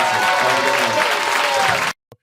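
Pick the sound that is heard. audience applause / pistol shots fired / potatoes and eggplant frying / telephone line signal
audience applause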